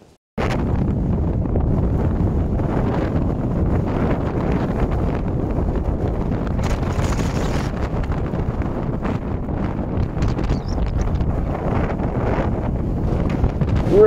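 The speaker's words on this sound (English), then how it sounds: "Pretty windy." Strong wind buffets the microphone on an exposed hillside heading up to Hay Bluff, a loud continuous roar that gusts and swells for the whole stretch after a brief quiet start.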